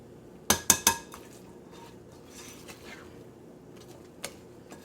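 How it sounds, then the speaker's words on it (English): Muffin batter for banana granola muffins folded gently in a bowl with the cut and fold method. A few sharp utensil clinks against the bowl come near the start, then quiet soft scraping with one more light tap later. "So with cut and fold method, very gently, I'll mix everything."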